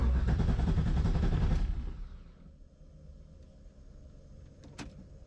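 A fuel pump in a 6.0L V8 BMW build whirs loudly for about a second and a half, then cuts off, leaving a quiet low hum and a sharp faint click near the end.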